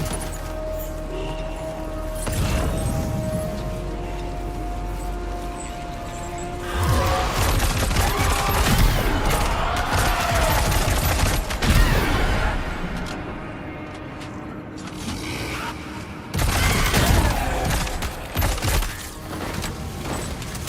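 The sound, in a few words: Warrior assault rifle gunfire in video game Death Stranding 2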